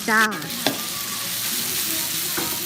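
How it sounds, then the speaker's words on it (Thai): Pounded curry paste stir-fries in a hot pan, a steady, close sizzle with a brief scrape of the spatula near the start. "พอกระทะร้อนแล้ว ใส่เครื่องแกงที่เราตำตะกี้นี้ลงไปผัดเล"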